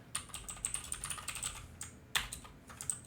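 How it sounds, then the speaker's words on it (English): Rapid, close typing on a computer keyboard: a brisk run of crisp key clicks with one louder keystroke near the end, over a low room hum. "you have to like type out allow pasting"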